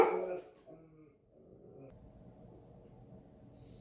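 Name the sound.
dog barking at someone near the house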